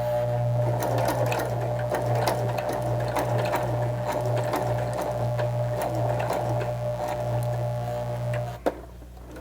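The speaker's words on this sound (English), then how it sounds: "now I will just sew all around the edge of my green triangle to sew my treetop down" A sewing machine stitches steadily around the edge of a green fabric triangle, a loud close mechanical whir with a rapid regular rhythm that runs for several seconds, then stops with a single sharp click.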